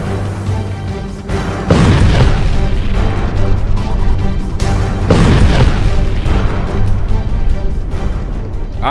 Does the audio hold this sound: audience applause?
no